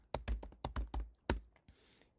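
Close-up typing on a computer keyboard during coding, a quick run of distinct clacking keystrokes in uneven bursts followed by a brief pause and a softer final rattle.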